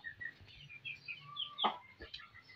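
A pure Afghani Aseel rooster clucks and calls softly nearby. The short chirpy notes come in a loose, uneven run, and no talking is heard.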